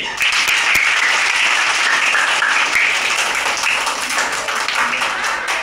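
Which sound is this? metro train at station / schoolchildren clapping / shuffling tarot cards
schoolchildren clapping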